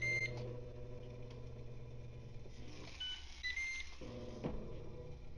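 A Ninja 7 in 1 IG651 air fryer gives a few short electronic beeps as it starts cooking, clear tones over a steady hum of the running appliance and kitchen background, with no talking.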